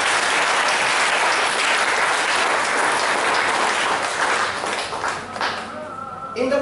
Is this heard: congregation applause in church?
yes